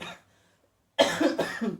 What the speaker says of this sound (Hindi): खाओगे तो ऐसे खांसोगे फिर